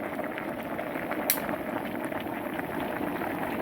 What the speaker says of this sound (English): drink, your Aya, for the next 3 weeks, bubbling away.